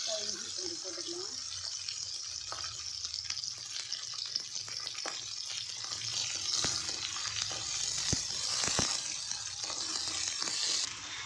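Onions and green chillies frying in a pan for rava kichadi, a steady broadband sizzle with occasional stirring scrapes and clicks, moderately close, a brief voice early on.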